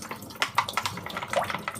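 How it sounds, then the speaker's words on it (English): Cherry tomatoes rinsed under a running kitchen tap, a close, steady splashing of water with brief bursts as the stream hits the fruit. "I'm going to rinse these cherry tomatoes"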